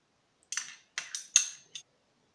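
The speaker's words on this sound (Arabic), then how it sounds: "بنقلب هاي المكونات منيح" A spoon clinks against a bowl while stirring a breadcrumb, garlic, onion and parmesan mixture, five quick light metallic taps in close succession, then silence.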